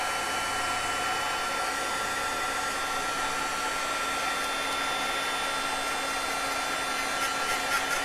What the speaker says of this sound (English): Sometimes you can actually see this do it if you put the heat gun in the back of it.